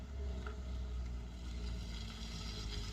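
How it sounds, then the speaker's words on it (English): Cars come and go on a street outside an open window, heard indoors as a faint, steady low rumble of distant traffic with no voices. "I have my window open and there's cars coming and going."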